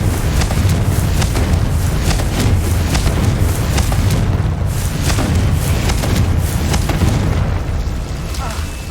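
Confringo fire-blast spells explode in the Hogwarts Legacy video game, a dense run of loud, close booms and bursts that keep coming over rumbling battle noise.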